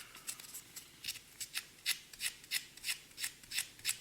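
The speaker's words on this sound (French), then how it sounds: "Les éponges Tamiya pour faire ces ponçages là, c'est très bien." Sanding a small plastic part from a 1/12 scale Aoshima Honda Z50JZ-1 Monkey kit with a Tamiya sanding sponge, giving a series of about a dozen short, even rasping strokes, close and clear.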